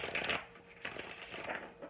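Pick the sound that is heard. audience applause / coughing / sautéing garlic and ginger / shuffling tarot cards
shuffling tarot cards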